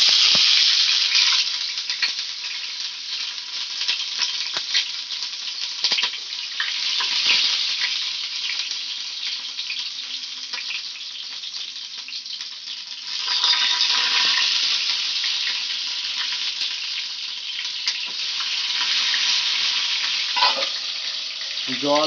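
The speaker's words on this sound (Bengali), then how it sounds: "এবার আস্তে আস্তে করে আমি বড়াগুলো দিয়ে দেবো।" Prawn fritters with bottle gourd leaves frying in oil over a low gas flame, a continuous close sizzle with occasional crackles and slight swells, alone without talk.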